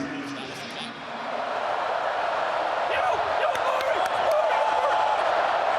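Stadium crowd at a Penn State home football game against Northwestern rising into a sustained roar on second down, a dense, steady wash of cheering that swells after the first second and holds loud throughout.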